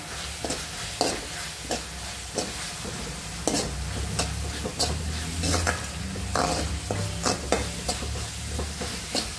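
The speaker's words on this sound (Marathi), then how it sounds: "कांदा चांगला फ्राय झाला आहे, कांदा नरम झाला आहे" Onions frying in hot oil with pav bhaji masala and red chilli powder, a steady sizzle broken by frequent spatula scrapes and clinks against the pan in an uneven rhythm, close and without speech.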